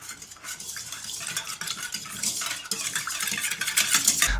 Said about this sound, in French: On commence par mettre dans la cuve le lait, la levure et on mélange.